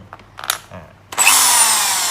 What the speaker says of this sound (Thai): ใช้ดอกเจาะปูนเพราะมันจะกระแทก กระแทกได้นะครับ